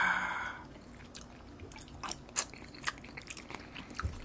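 Tuna sushi wrapped in seaweed being chewed close up, with soft wet bites and faint crunches in an irregular rhythm after a brief louder rustle at the start.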